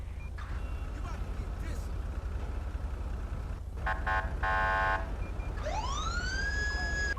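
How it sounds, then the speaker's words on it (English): A Federal Signal Unitrol 480K police siren in a video game cycles through yelp and wail tones, a pulsing burst followed by a rising sweep, over a constant low rumble while a voice talks throughout. "the federal signal Unitrol 480K, that's the siren I'm using."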